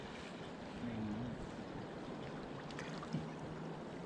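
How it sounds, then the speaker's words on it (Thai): Steady broadband rush of fast-flowing water fills the scene, loud and continuous, with a brief faint voice partway through. "น้ำโคตรแรงเลย"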